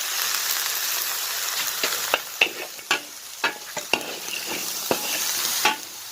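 A sweet batter of salt and sugar for Thai khanom tian is stirred by hand, a steady soft scraping bed broken by a series of sharp clinks and taps spaced through the mix, close and moderately loud with no talking.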